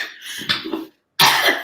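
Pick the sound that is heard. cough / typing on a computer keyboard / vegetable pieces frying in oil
cough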